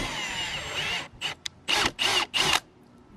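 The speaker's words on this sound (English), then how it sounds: "Jason's gonna drill a hole for this grommet to fit in there" A power drill bores a hole through a van roof to seat a solar cable grommet, using a bit close to but not exactly the right size. A steady, loud whine is followed by four short, separate bursts of drilling.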